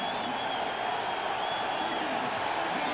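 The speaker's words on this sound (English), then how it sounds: "the crowd cheering Jim Miller's return" A football stadium crowd cheers a quarterback walking back onto the field at the 2001 NFL divisional playoff between the Eagles and Bears, a steady, dense roar of many voices with faint whistles over it.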